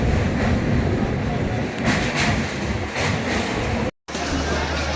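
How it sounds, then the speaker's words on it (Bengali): A passenger train pulls into a station bound for Digha, its broad continuous rumble and rolling wheel noise filling the scene at close range, broken by one brief cut near the end. "এইমাত্র আমাদের ট্রেন এসে পৌঁছালো"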